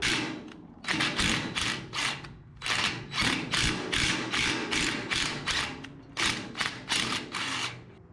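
An impact driver fitted with a tap holder cuts threads into metal for a custom rear bumper on a 1977 Datsun 620 minitruck, firing in rapid repeated bursts of sharp hammering clatter with short pauses between, close and loud.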